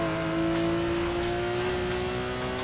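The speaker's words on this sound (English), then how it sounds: "And now that engine sound has changed." Porsche Cayman engine in Need for Speed: Most Wanted (2005), fitted with new parts, revving in a steady, loud, close drone with strong tonal harmonics and no talk over it.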